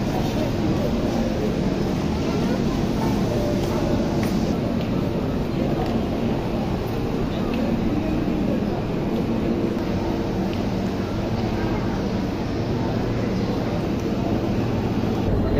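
A Dhaka metro rail train at Uttara station gives a steady, loud rumble and hiss throughout, with a voice speaking over the constant noise.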